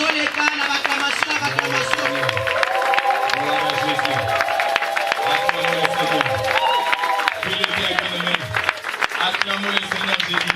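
A church congregation applauding and cheering in acclamation of the Lord, with a dense, continuous roar of clapping and shouting throughout, loud and close, while a voice talks over it.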